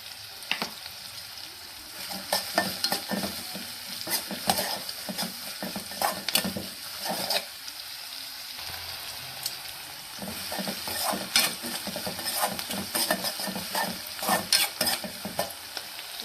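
Horse gram upma stirred in a hot frying pan, a spatula scraping and tossing in repeated strokes over a continuous sizzle, close and busy for the whole stretch with no talk.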